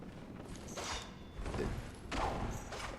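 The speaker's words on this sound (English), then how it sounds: "let's go ahead and open the door" A heavy door creaks open in the dark gothic world of Bloodborne, a slow mechanical groan and scrape in a few rising surges, fairly close and loud, with no voices over it.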